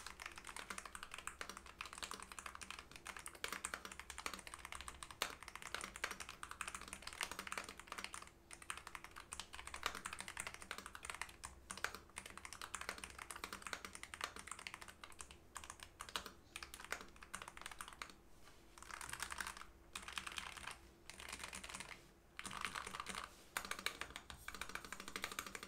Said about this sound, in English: here is the typing sound with the fully stock Nuphy Air 60HE with the Jade Pros.